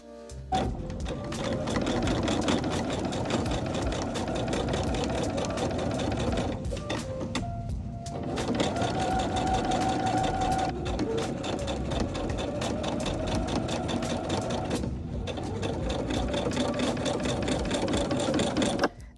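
Sewing machine stitching a denim patchwork blazer at the side seams, running loud and close in a steady, rapid mechanical chatter for most of the stretch, with two brief pauses and no talking.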